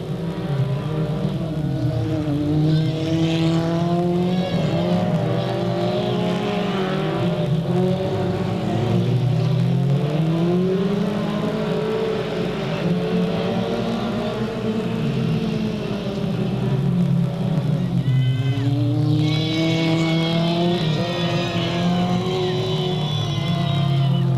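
Several race cars circle the Delta Speedway oval at night in 1998, engines droning continuously with rising and falling pitch as they pass, steady and loud throughout with crowd and track ambience underneath.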